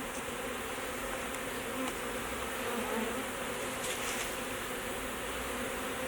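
A honeybee swarm being placed into a hive box buzzes densely and continuously up close, a steady droning hum from many bees with no gaps and no talking.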